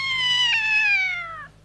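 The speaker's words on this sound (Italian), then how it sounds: "Possibile che un cane miagoli?" A dog lets out one long, drawn-out meow-like cry, close and clear, falling slightly in pitch before cutting off, with nothing else around it.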